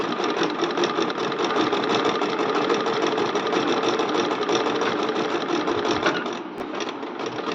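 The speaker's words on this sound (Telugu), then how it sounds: "నీట్గా చీరను సర్దుకుంటూ ముడతలు రాకుండా స్టిచ్ చేసుకోవాలి ఫ్రెండ్స్." A sewing machine runs steadily, stitching the fall onto a saree with a continuous, even whirring drone. It is close and loud, with a brief dip near the end.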